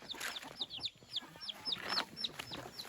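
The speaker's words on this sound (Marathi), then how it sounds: "कोंबडी वगैरे जे पिल्ले वगैरे सगळं आहेत." Chickens cluck in short repeated bursts, several birds close by, with high chirps of chicks scattered through and faint background noise.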